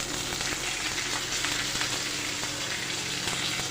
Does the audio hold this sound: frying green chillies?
yes